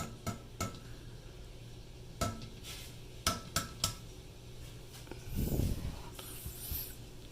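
A boiled egg being cracked against a hard surface in a home kitchen, a handful of sharp close taps spaced irregularly, followed by a soft rustling crunch of shell, no voices.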